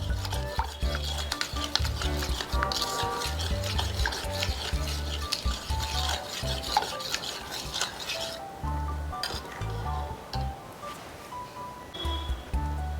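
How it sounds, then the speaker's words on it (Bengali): Sugar and oil beaten together in a bowl for an eggless chocolate cake, a loud rapid rhythm of whisk or spoon scraping and clinking against the bowl, close up and continuous with brief pauses, with no talking. "এই চিনিটাকে আর তেলটাকে ভালো করে ফেটিয়ে নেব।"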